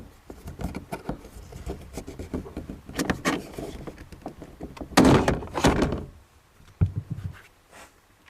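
Plastic trim panel clips on a Mazda Protege are pried and popped loose, giving a run of close, loud knocks, thunks and rattling snaps, with a sharp burst near the middle.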